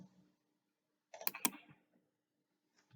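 Two quick, crisp mouse clicks close together in near silence, pressing the create button in JMeter.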